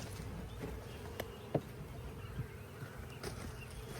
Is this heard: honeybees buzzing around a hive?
yes